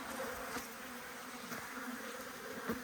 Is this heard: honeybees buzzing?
yes